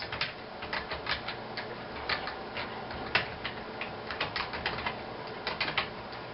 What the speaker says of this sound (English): You type in your email address.